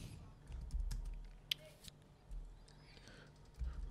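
Keystrokes on a computer keyboard as a network switch command is entered, a quiet scattered patter of taps spread over a few seconds with low background hum and no speech.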